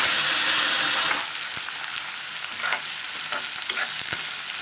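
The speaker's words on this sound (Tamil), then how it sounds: "வெங்காயம், பச்சை மிளகாய் எல்லாத்தையும் நம்ம நல்லா வதக்கிக்கலாம்." Onions, green chilies and coriander sauté in a pan with a loud steady sizzle, stirred with occasional scraping clicks; the frying hiss starts strong, then settles to a softer crackle.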